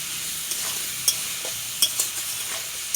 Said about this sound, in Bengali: খুব সুন্দর করে ডুমুরটাকে আমি ভেজে নেব।